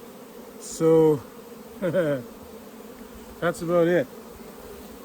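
Honey bees swarm and buzz around an open hive during a manual split into a nuc, a steady close drone under a man's speech, with a few louder bursts of buzzing.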